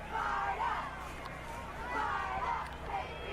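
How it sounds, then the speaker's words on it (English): Home-side fans along the sideline at a Center Hill vs Lewisburg high school football game cheer in swelling waves, heard somewhat distant and faint, with clapping mixed into the crowd noise. "folks actually over there giving some cheers and some claps."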